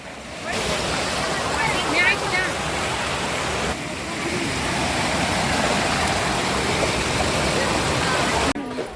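The Mandakini river at Chitrakoot rushes steadily, a loud continuous roar of flowing water close to the microphone, with some wind buffeting and faint voices in the background.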